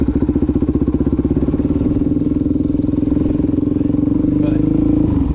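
Supermoto motorcycle engine running hard during wheelies, a loud, close, steady pulsing drone that holds its pitch and rises slightly near the end.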